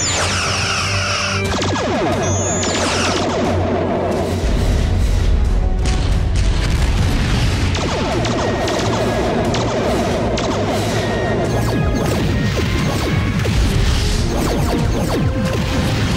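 Starship weapons fire and explosions in a Star Trek audio drama about the Romulan War: dense, continuous barrages of booming blasts, crashes and whooshing shots layered over a low rumble, loud and chaotic throughout.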